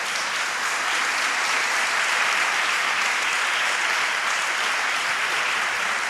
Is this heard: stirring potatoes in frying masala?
no